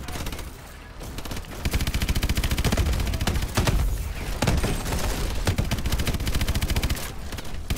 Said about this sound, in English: I'm shooting Gideon.